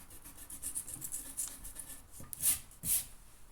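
Rubbing on a classroom board during a maths lesson on prime factors: a soft, steady brushing scrape with two louder strokes near the end, close and alone with no talk.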